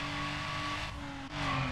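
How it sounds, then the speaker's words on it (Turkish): A car in the racing game Need for Speed Underground, engine droning steadily at high revs, then a short dip and a gear change into fifth around the middle, pitch settling back as it keeps pulling. "Bu araba 5'e verdi vites yapıyor."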